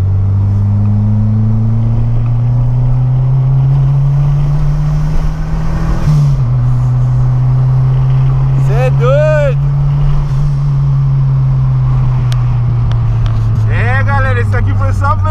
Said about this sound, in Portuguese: um carburadinho com acerto fino, turbina pequena, que já vem desde baixa